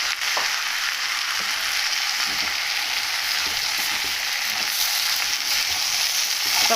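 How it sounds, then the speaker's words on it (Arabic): Rice and vermicelli frying in a pot, with a steady, bright sizzle throughout and soft stirring scrapes mixed in. "ونقلبه شويه كده في الشعريه"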